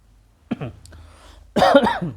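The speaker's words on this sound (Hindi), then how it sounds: "एक मिनट, जब खांसी आ रही है।" Two coughs, a short sharp one and then a louder, longer harsh burst, close to the microphone with no talking, during a Hindi chemistry lesson.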